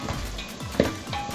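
Garlic and onions frying in a pan while cooking pilau give off a soft, steady sizzle, with faint stirring and one sharp clink of a utensil against the pot partway through.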